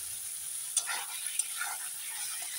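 Spice paste with potatoes and tomato sizzling in oil in a pan as it is cooked down, a soft continuous hiss close by with a couple of faint stirring clicks.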